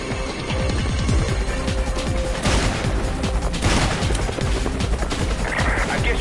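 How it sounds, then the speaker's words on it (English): Gunfire in the video game Resident Evil 5: rapid bursts and sharp repeated shots, dense and loud throughout, with occasional crashing impacts and no speech. "can hear gunfire"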